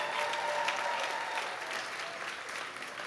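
Thick, sustained applause fills a university convocation hall, many hands clapping at once in a loud, even roar that holds steady for a few seconds with no talk over it.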